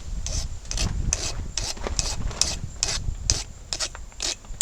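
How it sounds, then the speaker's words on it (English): A metal file rasps along a hand-forged knife blade in a backyard blacksmith setting, with about ten quick, regular strokes, each a crisp scraping burst, close and clear. "So I'm going to file it down so the end of our knife starts looking like a knife"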